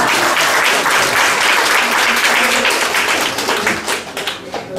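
An audience at a business strategy seminar breaks into loud, dense applause that holds steady for several seconds before thinning into scattered claps near the end.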